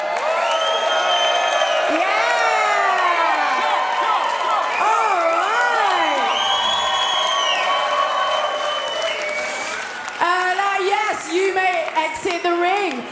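A chessboxing crowd cheers, whoops and claps for the heavyweight fighters in the ring, a loud sustained roar with someone talking over it throughout.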